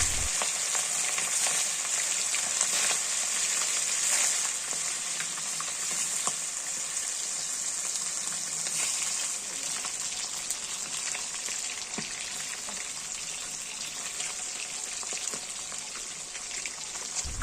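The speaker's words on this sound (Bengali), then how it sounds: "তেল গরম হয়ে গেছে এবার মাছের পিসগুলিকে তেলের মধ্যে দিয়ে দিচ্ছি" Pieces of fish sizzle steadily in hot oil in a pan for a tomato fish dish, a close, dense frying hiss that holds evenly throughout with no talking.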